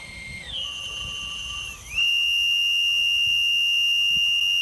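Storm Whistle driven by compressed air gives a loud, shrill, continuous blast. Its pitch shifts and wavers early on, then it settles into a steady, piercing tone that holds to the end.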